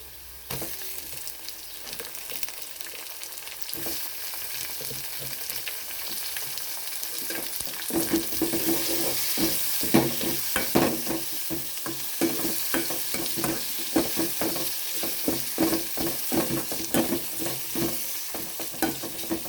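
Onions and tomatoes sauté in a pan for dried-fish karuvadu thokku: a steady, close sizzle grows louder as a spoon scrapes and stirs in quick, rhythmic strokes. No voices are heard.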